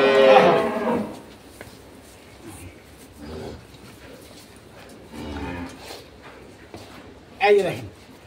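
A cow at a cattle auction of two-tooth improved dairy breed cows and calves moos loudly twice, a long low call at the start and a rising bellow near the end, with people talking in the background between.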